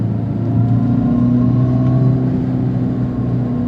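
A 2025 Dodge Charger Scat Pack with a single-speed drive accelerates, giving a loud, steady, droning engine-style exhaust hum inside the cabin with no talk.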